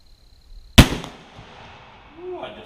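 A single sharp, loud shot from a Jukar .45 caliber Kentucky muzzleloader rifle, a close blast that fades into a short rumbling tail, with a faint voice after it.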